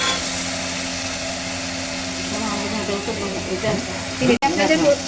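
Green chili and turmeric paste fries in a pan with a steady hiss and crackle, a low hum beneath and a sharp clatter near the end.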